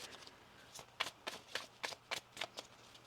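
Tarot cards shuffled by hand in a run of quick, crisp riffling bursts, close and fairly clear against a quiet background.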